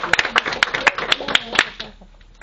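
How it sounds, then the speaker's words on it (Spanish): A church congregation clapping for Jesus during a Spanish-language sermon, a quick burst of sharp, fairly close handclaps that thins out and fades after about two seconds. "Dale un aplauso fuerte a Jesús."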